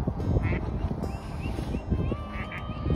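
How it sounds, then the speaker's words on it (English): Ducks at a duck pond quack repeatedly in short raspy bursts over steady low outdoor rumble and background noise, fairly close and moderately loud. "The ducks are all over. They just go wherever the hell they want."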